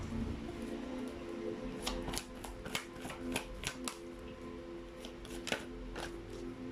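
Tarot cards being shuffled, a series of sharp flicking snaps and riffles with several cards flying loose from the deck, moderately close over a low steady hum.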